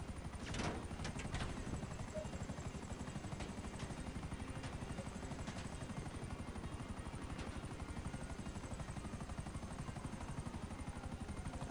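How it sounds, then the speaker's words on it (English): Helicopter in the GTA video game, a steady rapid chopping of rotor blades that stays constant and fairly faint throughout, with a few sharp knocks near the start. "Oh, there's another helicopter."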